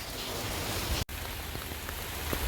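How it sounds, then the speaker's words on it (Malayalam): Steady rain falling, a dense even patter on a hard surface with scattered louder drops, continuous throughout with one brief cut. "കുറേ കാത്തു നിന്നിട്ടും മഴ മാറുന്ന ലക്ഷണമൊന്നുമില്ല"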